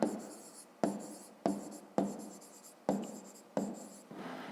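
Pen strokes on paper as a maths answer is written out for a fifth-grade exercise on a square's perimeter, six short scratchy bursts in a steady rhythm, each starting sharply and trailing off, close and clear with no talk.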